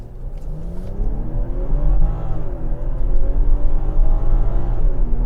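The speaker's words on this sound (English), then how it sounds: "A BMW with a straight 6 engine sounds correct." A 2022 BMW X7 with a straight-six engine accelerates hard, its smooth engine note rising steadily in pitch and growing louder over several seconds, heard from inside the cabin with no talking.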